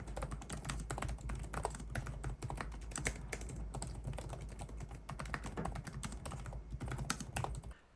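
Typing on the keyboard of an ASUS Zenbook S16 OLED laptop with short 1.1 mm key travel, a steady stream of soft, quick clicking keystrokes, close and quiet with no talking.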